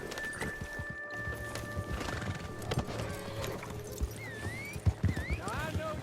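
In the video game Red Dead Online, horse hooves clip-clop at a steady walk while a horse whinnies a few times, with a voice speaking over the background.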